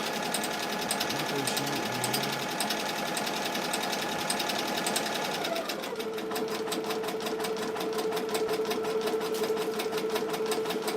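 A Ricoma EM-1010 embroidery machine stitches a design during a tension test, with a steady, rapid mechanical chatter whose pitch shifts partway through as the stitching pattern changes.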